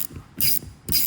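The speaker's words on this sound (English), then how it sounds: "So Milwaukee ratchet spanner on it." A Milwaukee ratchet spanner works on a wiper motor, giving two bursts of quick, close ratcheting clicks with short quiet gaps between them and no voices.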